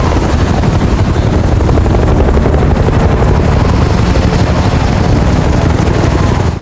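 Loud, steady military helicopter rotor thudding from three arriving helicopters fills the whole stretch, a continuous heavy chop with engine roar and no other sounds breaking through.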